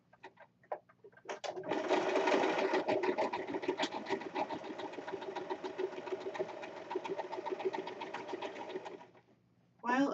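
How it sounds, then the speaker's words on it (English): A sewing machine stitching over the side seams of a corset, running for about seven seconds in one continuous, rapid mechanical whir, with a few brief starts before it and a short restart at the end. "I think I'm just going to sew over the side seams one more time."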